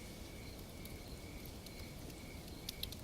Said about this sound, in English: The cicadas and the owls and other nighttime animals.